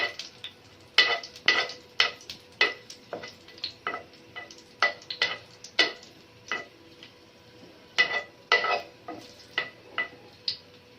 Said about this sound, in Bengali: এখানে আমি 4-5টা শুকনো মরিচ এভাবে টেলে নিচ্ছি